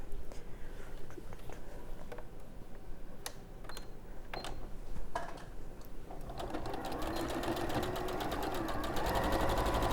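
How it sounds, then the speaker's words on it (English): Sewing machine stitching fabric pieces together for a stuffed gnome, first light clicks and handling noises, then the motor builds into a steady, loud, rapid whirring run in the second half. "I'm going to stitch across here just to attach that together."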